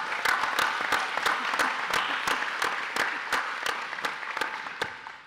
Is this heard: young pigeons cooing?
no